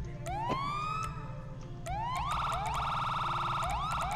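A wailing police siren in a video game sweeps up and down repeatedly over a low rumbling background, steady and fairly loud, with no talking.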